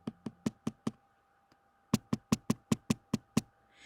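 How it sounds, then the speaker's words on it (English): Two bursts of sharp knocking taps, five evenly spaced raps, a pause, then about eight more in a steady rhythm, close and clear against a quiet background, like knuckles tapping on a window at night. "she'd hear a tapping on the windows"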